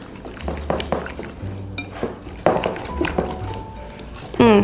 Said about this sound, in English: we're gonna go ahead and add our vanilla bean paste. We're gonna mix that in.